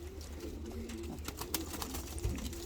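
Curly pigeons from Kayseri coo softly and shuffle about nearby, with low repeated coos and light rustling in a quiet setting.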